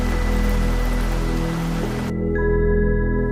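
Rain falls steadily over a misty forest at night, a loud, dense hiss that cuts off abruptly partway through, leaving a low steady hum and faint tones.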